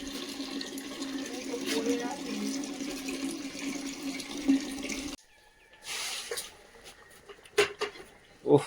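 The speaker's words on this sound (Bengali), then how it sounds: "জলগুলো কিভাবে যাচ্ছে দেখো, আওয়াজ দিচ্ছে, দেখেছো?" Water runs and gurgles through dry soil near a papaya plant outdoors, a steady wash that cuts off abruptly midway, followed by quieter trickles, clunks and scattered sounds, with voices faintly in the background.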